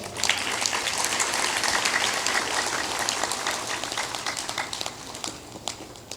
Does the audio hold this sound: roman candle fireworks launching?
no